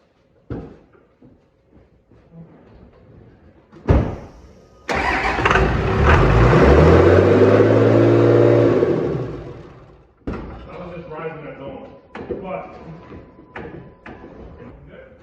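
Cummins 24-valve diesel engine with a P pump cranks with a sharp clunk, fires loudly into a roaring rev, then drops back to a rough, lumpy idle with clattering, close and loud.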